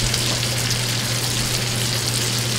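Bacon sizzles steadily in a hot pan with added olive oil, a dense, loud, continuous frying hiss with a low steady hum beneath and no voices.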